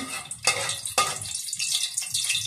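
Carrots and potatoes hit a hot pan for sautéing, with bursts of sizzle and stirring scrapes that rise and fall over a couple of seconds, close and fairly loud.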